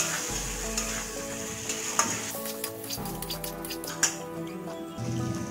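Potatoes coated with tomato ketchup fry in a pan for aloo dum, with a soft continuous sizzle, occasional spatula clinks and scrapes, and no talking.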